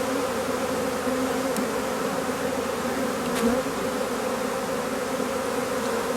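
Dense, steady buzzing of many honeybees around an open hive being worked by a beekeeper with a brush, loud and close with a constant drone and no talk.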